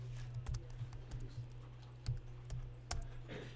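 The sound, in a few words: typing a date on a computer keyboard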